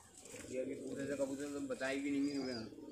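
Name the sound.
pigeons cooing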